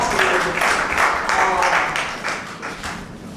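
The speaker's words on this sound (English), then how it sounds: "Yeah, let's clap. Let's give a clap." Audience clapping at an International Women's Day gathering of women with disabilities in Nigeria, a short burst of steady applause that tapers off toward the end.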